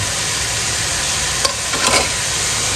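Cabbage, capsicum and carrot being stir-fried together in a hot pan: a loud, steady sizzle with a couple of stirring scrapes and clatters partway through, close up.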